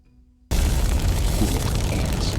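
Refinery vapor cloud explosion at Texas City erupts suddenly after near silence, a massive loud blast that sustains as a dense, roaring rumble with crackling debris for the rest of the moment.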